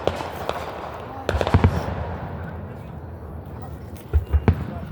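Fourth of July fireworks exploding outdoors, a cluster of sharp pops and crackles followed by a second volley of booming bursts, over a background murmur of people talking.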